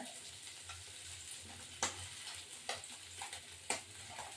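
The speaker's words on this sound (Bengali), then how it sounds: "কড়া করে ভাজলাম" Tengra fish frying crisp in a hot pan gives a continuous close crackling sizzle. Several sharp spatula taps and scrapes sound at intervals over it.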